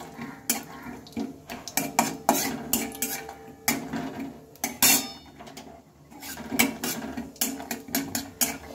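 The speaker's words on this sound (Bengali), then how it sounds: "বাদামটাকে একটু ভালোভাবে ভেজে নেব।" Peanuts fried in a little oil in a wok are stirred with a utensil that scrapes and clinks against the pan in irregular bursts, close and moderately loud, while a faint sizzle sits underneath.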